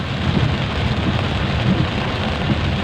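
Heavy rain pours steadily in Guwahati, a dense, constant broadband hiss with low rumbling underneath, close and loud throughout with no voices.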